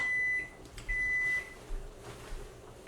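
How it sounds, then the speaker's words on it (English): A kitchen timer beeps while pasta is cooked on the stove, giving two long, steady electronic tones separated by a short gap, close and clear against quiet room noise. "That would be our kitchen timer."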